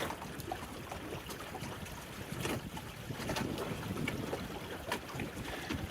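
Sailboat reaching along on an evening breeze across Chequamegon Bay, with steady wind rush buffeting the microphone and faint water wash against the hull, continuous and fairly quiet.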